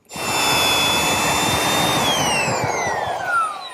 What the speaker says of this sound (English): A 1/2-inch brad point bit is all I need to make the hole